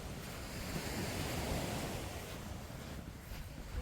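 Waves roll onto Lamai Beach on Koh Samui as a steady broadband wash of surf, with wind noise buffeting the microphone throughout and no voices.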